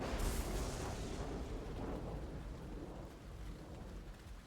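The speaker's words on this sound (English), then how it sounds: "Man, I love storms." A thunderstorm with steady heavy rain in the game Metal Gear Solid 4, a loud rumble opening the stretch and then rolling and fading under a constant wash of downpour, with no voices.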